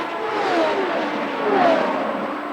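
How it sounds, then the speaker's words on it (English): A Champ Car whistles past into turn 1 at the 2006 Milwaukee race, its engine note rising and falling in two Doppler sweeps, loud over the crowd and track ambience. "Whistling down into turn 1 as we watch that fight for 8th."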